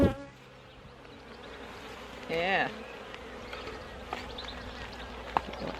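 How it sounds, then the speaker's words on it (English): Honeybees buzz steadily around an open beehive during an inspection, a dense close drone with one louder whining pass as a bee flies near, and a voice speaks briefly at the start. "I won't shake the bees off that one"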